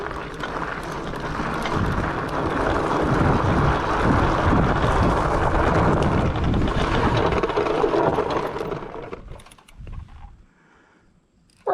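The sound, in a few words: Ecotric fat tire ebike riding then braking to a stop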